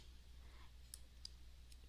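Buttons on a graphing calculator are pressed in a few faint, sparse clicks against a quiet room background.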